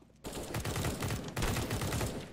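A rapid burst of gunfire in a multiplayer shooter video game, dense and loud, cutting in abruptly and continuing as a steady rattle of shots for about two seconds.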